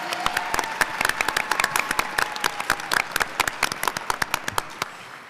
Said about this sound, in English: Audience, I just want to give the teams both another round of applause.